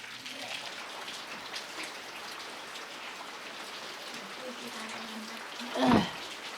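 Rain falls steadily on an old traditional house about 300 years old, a soft continuous patter, with one brief louder splash or thump near the end.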